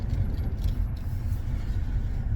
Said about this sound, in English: So y'all, I am in the car.